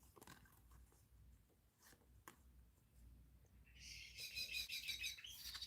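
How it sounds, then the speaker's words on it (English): A bird chirps noisily outside, with quiet rustling and small clicks first, then a burst of rapid, high, bright tweets that grows louder toward the end. "How noisy is that bird?"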